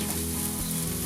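Smash burger patties sizzle on a hot griddle plate in a kamado grill, a dense continuous frying hiss heard up close without speech.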